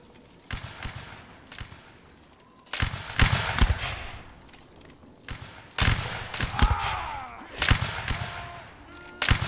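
Muskets fire at will on an enemy line in a Napoleonic Wars line battle. Loud clustered volleys come a few seconds apart, each a ragged crackle of many shots that tails off into quieter gaps.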